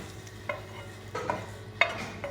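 Bean and cabbage soup being stirred in a pot, with a few soft scraping and clinking strokes scattered over a quiet background, the brief accents arriving irregularly with nobody talking.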